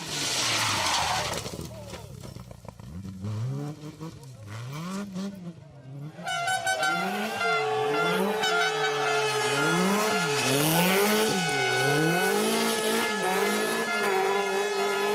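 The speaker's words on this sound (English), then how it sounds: "Sounds just like a Mark II Escort." A Mark II Ford Escort rally car engine revs and roars on a rally stage, rising and falling as it pulls through gears, loud and close, with a muffled voice briefly at the start.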